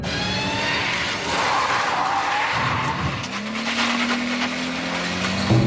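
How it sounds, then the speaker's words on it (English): Car tires skid and squeal loudly as a driver snaps from reverse into drive on a driving-course setting, a sustained screech with engine roar rising underneath, no talk. "To get out of there, I'm going to go from reverse to drive really quick."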